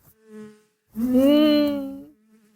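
A housefly buzzing in a Breaking Bad episode, a short faint buzz followed by a louder, sustained droning whine that fades out, close to the ear with no voices.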